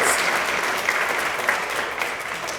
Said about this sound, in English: How about giving them a nice round of applause?